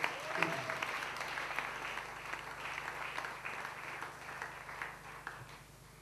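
A church congregation claps to welcome a preacher, faint scattered applause from a distance, with a voice briefly heard over it.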